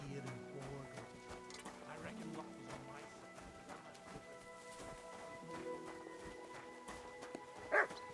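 A dog barks and whimpers somewhere in the background, faint and intermittent beneath steady game music and other sounds.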